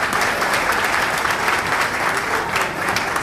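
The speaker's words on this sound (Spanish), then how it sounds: "Aplauso." Applause from a crowd at a political rally with Luis Abinader in La Romana, thick continuous clapping from many people that stays loud and even for about three seconds, with no speech over it.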